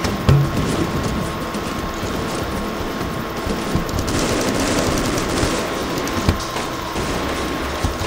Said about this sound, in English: Let's try shooting.